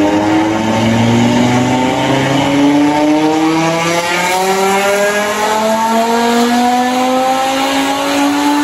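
Loud tuned Audi on a dyno bench in a test room, engine revving up through rising pitch sweeps and shifting gears repeatedly, with a harsh, roaring exhaust and no voices.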